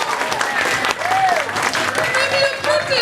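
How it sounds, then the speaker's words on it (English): Crowd applause at a convention panel, short and loud, with scattered clapping mixed with cheers and voices over about three seconds. "Give me an applause."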